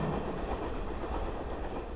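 A driverless automatic underground train rolls steadily along its rails, a close, continuous rumble with faint rhythmic clatter from the wheels and no voices.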